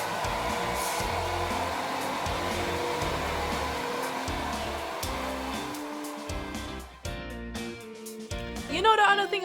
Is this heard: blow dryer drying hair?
yes